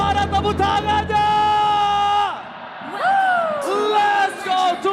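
An arena crowd at an esports grand final in Jakarta International Velodrome erupts in loud, sustained cheering and whooping, with a pause midway before the roar swells again.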